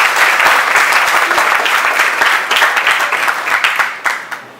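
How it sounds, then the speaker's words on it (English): Seminar audience clapping, a dense steady patter of many hands that thins out and trails away toward the end, loud and close with no talking over it. "you can clap for yourself for being here"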